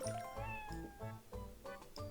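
A domestic cat meows several times in a row, close and fairly loud, the calls tonal and drawn out with short gaps between them.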